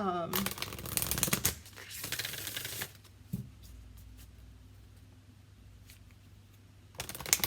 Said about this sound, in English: we're going to use Rebecca Campbell's Starseed Oracle, and it's kind of new, so it doesn't shuffle the greatest yet